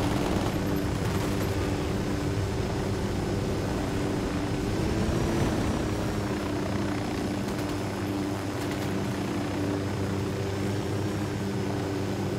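Aircraft taking off in the video game Ghost Recon Wildlands, a loud continuous engine roar with steady droning tones that holds at constant strength from start to end, no voices.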